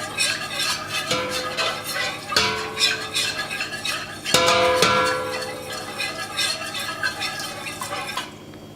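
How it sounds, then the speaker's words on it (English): Canned milk is stirred into macaroni and cheese in a pot, heard as a continuous run of close scraping and clinking of a spoon against metal with brief ringing knocks, busy and uneven throughout. "I add the other part of the milk, a little bit more, and I'm going to stir."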